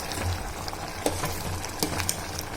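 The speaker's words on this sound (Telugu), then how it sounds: "కొంచెం ఇలా తిప్పేస్తాను" Masala being stirred into basmati rice cooking in a pot, with a steady soft bubbling sizzle and a few sharp scraping clicks from the spoon at the close.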